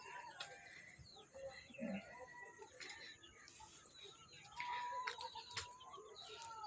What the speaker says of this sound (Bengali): এইগুলো আমরা পুষেছি বাড়িতে